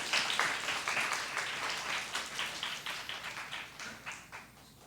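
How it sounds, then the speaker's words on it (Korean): A congregation at a Sunday worship service claps together in blessing, a dense, steady round of applause with rhythmic pulses that gradually fades over several seconds, with little talking. "박수로 축복하자는 얘기죠"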